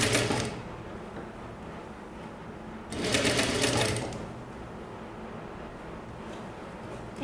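A sewing machine stitching a kimono jacket runs in two short close bursts of fast, even mechanical whirring, separated by a quieter pause with no talking.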